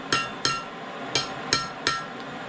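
Five sharp ringing hammer blows on the corners of hot forged steel for a long chisel, spaced unevenly about half a second apart, close and loud with brief metallic decay.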